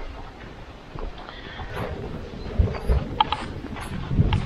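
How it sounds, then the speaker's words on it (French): Wind buffeting an unshielded camera microphone outdoors while hiking, a steady low rumble with stronger gusts thumping in toward the end, no voices. "j'espère que sur la vidéo, vous n'avez pas trop de problèmes de son avec le vent"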